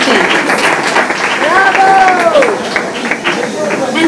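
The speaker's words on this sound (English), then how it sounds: "Let's give her a round of applause." Audience applause at a literary talk, steady dense clapping from a crowd with a shouted bravo and whoops rising over it.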